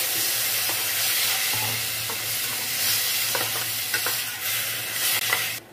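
Carrot masoor dal sizzles steadily in a pan while a spoon stirs it and a little water goes in, a continuous bright frying hiss with soft scraping strokes and no talking.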